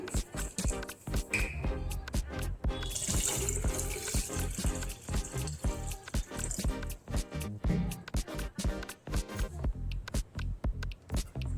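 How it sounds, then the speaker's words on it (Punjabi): Water runs from a tap in a steady splashing stream into mango crush juice, broken by clinks and knocks of kitchen handling throughout. "ਤੇ ਹੁਣ ਆਪਾਂ ਪਾਵਾਂਗੇ ਪਾਣੀ"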